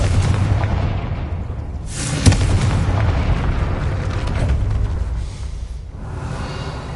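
A Confringo fire spell explodes in Hogwarts Legacy as a sharp, punchy blast rising out of a continuous deep rumble, followed by a long, noisy roar that slowly fades back into the low background.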